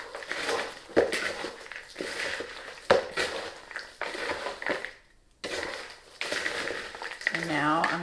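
Churro Chex Mix is tossed in a bowl, giving dry crunchy rattling and scraping in irregular bursts with brief pauses, while a person talks over parts of it.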